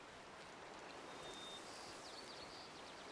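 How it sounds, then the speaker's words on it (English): Steady, soft broadband rush of a flowing river or creek running through a marsh area in the hunting game Way of the Hunter, continuous and unbroken, with faint chirps of distant birds above it. "River, creek, stream, whatever you'd call this."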